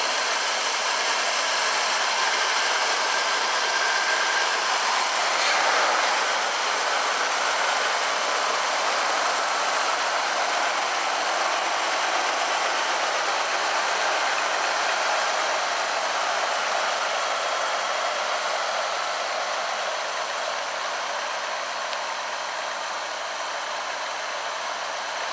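Engine of a 1974 Chevrolet Blazer with no-spark, no-charge and no-choke problems, running at a steady idle with a continuous loud hum and no change in pace.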